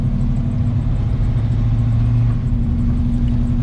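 A flamed hot rod coupe with a shift kit drives along on a test ride, its engine giving a steady, loud, low rumble with a constant drone the whole time and no voices heard.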